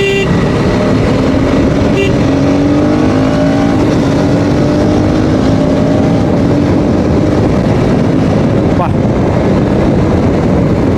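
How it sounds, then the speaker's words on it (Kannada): A KTM Adventure 250 motorcycle engine revving, a loud continuous engine drone with rising and falling pitch as the throttle is worked, heard up close over wind and road noise. "ಒಂದ್ಸಲ ಇದ್ರ ಎಕ್ಸಲೇಟರ್ ಹೇಳೋಣ"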